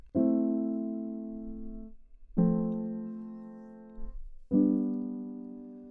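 Three sustained piano chords played one after another, each struck cleanly and left to ring and fade before the next.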